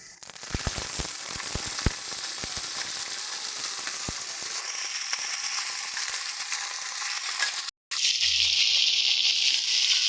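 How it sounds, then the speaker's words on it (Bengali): Mixed vegetables drop into hot oil already tempered with dry curry leaves and panch phoron, bursting into a loud, steady close-up sizzle with a few sharp pops at the start and a brief cut near the end. "তেল আমাদের গরম হয়ে গেছে, আমরা ফোড়ন দিয়ে দেবো এই যে শুকনো কারি পাতা আর পাঁচ ফোড়ন। এক এক করে এবার এর মধ্যে আমরা দিয়ে দিচ্ছি সবজিগুলো।"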